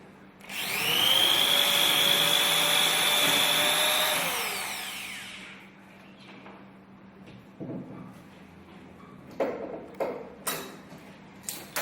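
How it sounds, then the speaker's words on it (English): A power drill boring a hole in a wooden workpiece, a loud high whine that runs for several seconds then winds down, followed by quiet clicks and knocks of handling the tool and wood. "Now I'm going to drill the hole in this position on the workpiece."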